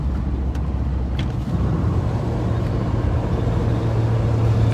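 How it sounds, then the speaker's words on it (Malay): A lorry loaded with food supplies rumbles past on the road to Pahang, a steady low engine drone with faint traffic noise, fairly close and without talk. "Ini lori yang membawa sembako."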